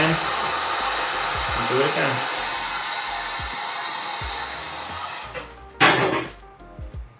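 A heat tool roars continuously over the leather of a custom Air Jordan 1 to smooth out wrinkles, a loud steady blowing hiss with soft taps and handling knocks, a sharp clack near the end, and a few brief spoken words.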